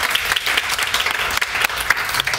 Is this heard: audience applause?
yes